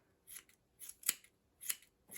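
Scissors trimming yarn on a pom pom snowman craft make five crisp snips, soft and close, spaced roughly half a second apart, with no talking.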